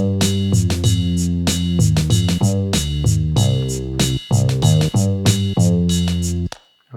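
A boom bap preset kit from Logic's Drum Machine Designer plays a steady groove of punchy kicks, snares and hi-hats over a bass line, loud and up front, ending abruptly.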